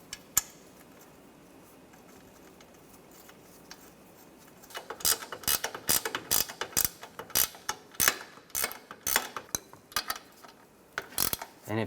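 Ratchet tightening a ball joint nut on the front of a 2007-2013 Mini Cooper: after a quiet start, a close run of sharp ratcheting clicks comes in quick, slightly uneven bursts until the end.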